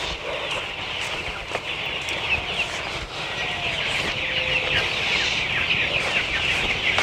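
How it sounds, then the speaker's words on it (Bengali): Chickens at a Tiger chicken farm in Dinajpur cluck and call in a steady, busy chorus, with scattered higher calls rising over a constant flock din throughout. "চলুন আমরা সেই নতুন টাইগার মুরগি ফার্মটা দেখি"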